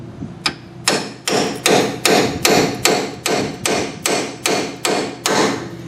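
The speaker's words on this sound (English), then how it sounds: "All right, so I got my hammer and cold chisel. I'm just going to drive this right into this" A hammer drives a cold chisel into a split in a Ford Explorer rear wheel bearing part, about a dozen loud, evenly spaced metallic strikes in a steady rhythm, close up with no talking.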